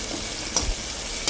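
Onions frying in a pan with ginger garlic paste for a ridge gourd egg curry, a steady close sizzle with a couple of brief stirring scrapes, no voices.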